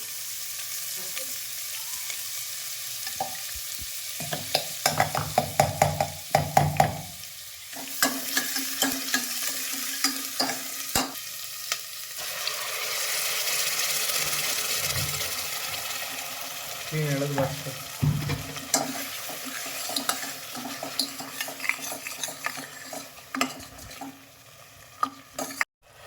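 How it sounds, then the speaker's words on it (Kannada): Onions sizzling in oil in a pot as a tempering for egg curry, with frequent stirring scrapes and clatter, the hiss swelling loudly in the middle before settling. "ಸ್ವಲ್ಪ ಈರುಳ್ಳಿ ಒಗ್ಗರಣೆ"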